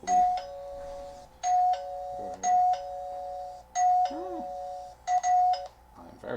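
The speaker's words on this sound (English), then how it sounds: "It's the doorbell." A newly installed doorbell chimes again and again, loud tonal ding-dong notes repeating in bursts close by, with a person talking briefly between the rings.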